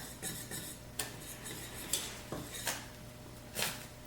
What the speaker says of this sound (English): Continue to stir in, and you're going to end up with a nice cheese sauce.